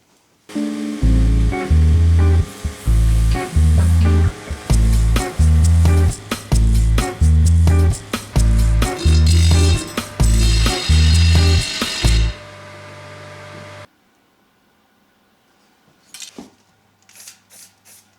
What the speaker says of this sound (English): I will grind down to the final shape and also add my logo mark.